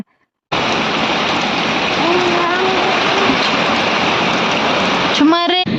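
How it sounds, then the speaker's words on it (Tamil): Strong stormy wind roars outdoors during an evening storm with rain, a loud continuous rushing that begins after a moment of silence, with a faint voice briefly audible beneath it. "வெளியே வந்து பார்த்தா செம்ம காற்றுங்க"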